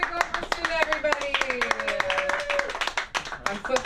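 Audience clapping and applause for a comedian at a comedy show, lively and sustained, with a voice speaking over the clapping.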